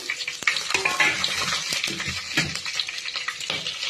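Whole biryani spices fry in a pan with onions, a steady close sizzle with crackling pops and scraping stirs running throughout.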